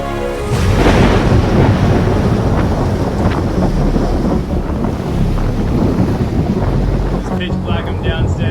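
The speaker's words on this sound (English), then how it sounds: "I got lightning cracking all around me." Thunder rumbles from a lightning storm at sea, mixed with strong wind noise and the wash of waves around a sailboat running under motor, loud and continuous.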